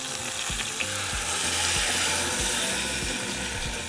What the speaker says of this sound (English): now we're going to sear that side for another 4 minutes